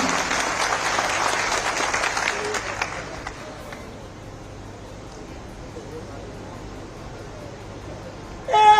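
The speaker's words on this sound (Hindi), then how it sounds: "और ये ताली आपकी अपने लिए होनी चाहिए, जोर से होनी चाहिए, सभी लोगों की।" Crowd applause at a public ceremony in Una, Himachal Pradesh, loud sustained clapping that fades over a few seconds into quiet background murmur, with a brief horn-like tone at the end.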